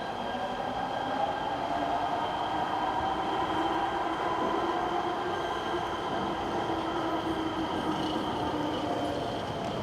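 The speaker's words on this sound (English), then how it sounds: "K-Line train to Crenshaw is now arriving." LA Metro K Line train arriving at a station, a steady rumbling roll of rail cars with faint high squeal tones from the wheels, running continuously at moderate level.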